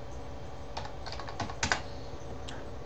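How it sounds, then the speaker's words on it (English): Someone types on a computer keyboard with a short, uneven run of close key clicks over a steady background hum, and no voices. "You would type in the text that you want to be the link"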